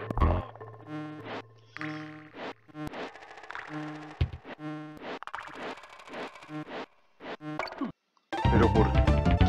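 A bee buzzes in a Donkey Kong Country hack, repeated droning insect buzz in short rhythmic pulses over game music, with someone talking throughout.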